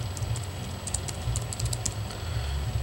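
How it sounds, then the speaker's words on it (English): Fingers type a search term on a computer keyboard, a quick run of light clicking keystrokes over a low steady hum, with no speech. "You type in Bowling Green and just hit enter"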